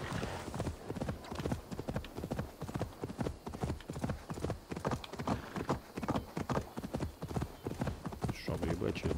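Rhythmic hoofbeats of a galloping horse in Assassin's Creed Valhalla clatter steadily throughout, fairly close, with a voice speaking over them.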